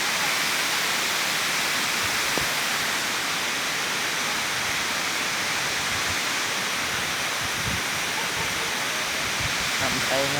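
The Tat Kuang Si waterfall near Luang Prabang roars as a dense, constant wash of rushing water, loud and close, steady throughout with faint sounds from people nearby beneath it.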